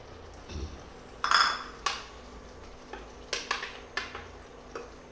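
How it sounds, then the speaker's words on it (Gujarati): Yogurt goes into a pan of cluster bean curry with a run of sharp metal clinks and scrapes from a spoon against the pan, scattered over a quiet kitchen background. "હવે આપણે આપણું દહીં નાખી દઈશું"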